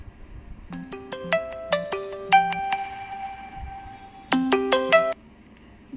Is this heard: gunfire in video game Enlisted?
no